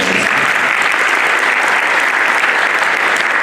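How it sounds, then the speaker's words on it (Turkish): Dense, steady audience applause at a Turkish community tulip-growing project event, loud and continuous with no voices rising above it. "Bir alkış yok mu hocam?"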